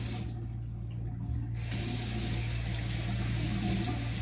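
Tap water running hard into a sink while hands are wetted, a loud continuous rushing stream close by that grows fuller after a short moment, with no talk over it.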